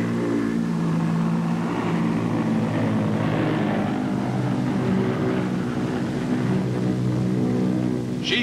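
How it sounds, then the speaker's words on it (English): A loud, constant roar from the jet engines of a climbing Consolidated aircraft drones without letup, steady and close, with a faint rise toward the end. "with the extra thrust of those jet engines behind her, she wastes no time doing it"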